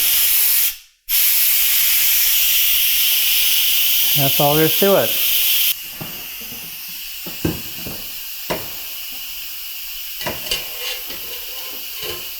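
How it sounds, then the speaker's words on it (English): Steam hisses hard and loud from an Instant Pot's pressure release while turkey stock cooks, then carries on as a softer, steady hiss under a person talking. "we're going to go ahead and release the steam"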